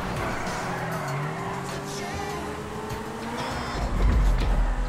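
A car in GTA Online on the PS3 slides sideways across the finish line, engine roaring steadily with squealing tires and a louder low rumble near the end.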